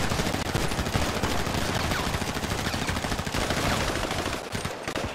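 Dense, continuous gunfire in a GTA roleplay shootout, rapid automatic bursts and overlapping shots filling the whole stretch at a loud, steady level with no talk.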